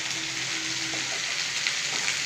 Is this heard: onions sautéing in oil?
yes